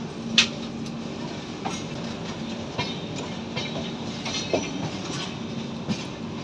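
A Santragachi–Pune Humsafar Express rolls along the rails between Raipur and Pune, a steady rumbling ride with rhythmic clickety-clack wheel beats and occasional sharp clanks, heard close from on board.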